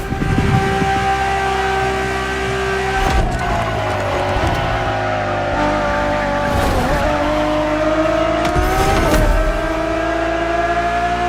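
Ferrari Enzo supercar in The Crew Motorfest, its engine roaring steadily and loud throughout, with pitch sweeps as it shifts gears and tires squealing in bursts.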